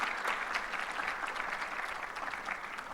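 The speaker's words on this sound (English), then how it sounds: "Yes, please give them a round of applause." Event staff at a planners' symposium in Guam receive a warm round of applause from the audience, steady, even clapping heard from a distance and fairly soft throughout.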